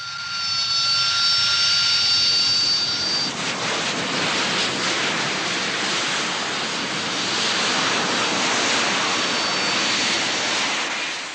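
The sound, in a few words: Harrier jets landing at woodland site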